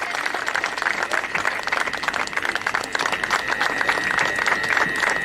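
Lively applause and clapping from an outdoor audience for a children's dance performance at a rural school national holiday parade, brisk and steady, with a faint whistle-like tone running through it.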